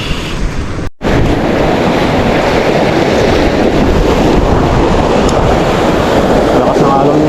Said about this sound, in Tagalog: Lakas ng alon ngayon mga master.